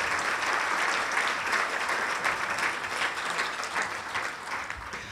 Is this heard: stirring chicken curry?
no